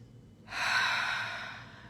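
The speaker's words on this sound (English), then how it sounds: "One more nice deep breath." One deep inhaled breath, close and airy, swelling in after a short pause and fading slowly, heard alone without speech.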